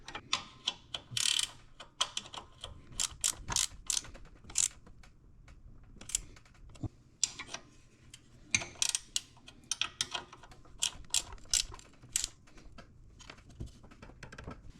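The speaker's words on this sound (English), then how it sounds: "Now I'm going to snug them up the rest of the way." A ratchet wrench clicks in quick, irregular bursts as it tightens the bolts on a pressure washer pump, close and crisp, with brief pauses between strokes.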